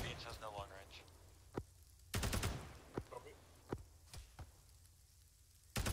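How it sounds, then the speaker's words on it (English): Machine gun fire in the Arma 3 game: sharp single and short bursts of shots scattered through, some loud and close, with voices talking in between. "I can confirm the MG can shoot at us"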